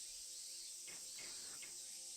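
Cicadas keen in the summer heat of the visual novel Tsukihime, a continuous high shrill buzz with faint brief chirps layered on top.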